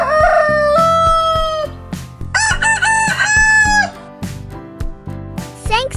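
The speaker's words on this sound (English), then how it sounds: "Rooster." A rooster crows loudly and close several times, each cock-a-doodle-doo rising then falling away, with shorter clucking calls and hen noises between the crows.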